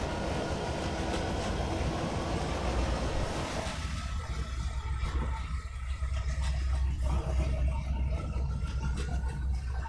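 A Carrabassett Valley Railroad No. 10 train speeds along, its loud continuous rumble and rattling wheel noise rolling steadily throughout, with a deep low drone dominating the second half.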